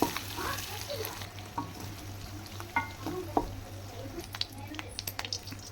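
Sliced onions, carrots, capsicum and beans frying in oil in a pan, an even crackling sizzle punctuated by sharp stirring clicks and scrapes, close and unaccompanied by speech.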